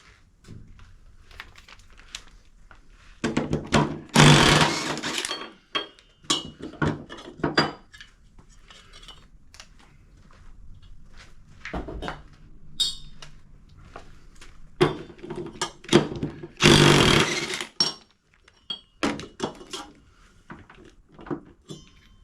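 Metal clanks and scraping as the top nut comes off a pulley on a John Deere S240 mower deck, in irregular close bursts with quieter gaps.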